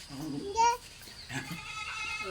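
A young goat kid bleats once, fairly close and clear, then gives fainter bleats against a low outdoor background.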